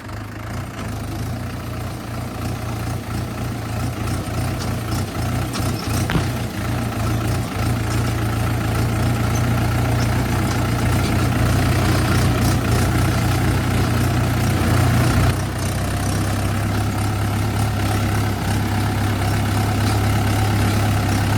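A tractor engine runs steadily in gear while pulling a harrow through a eucalyptus plantation, a loud, continuous low diesel drone close by with no talk over it.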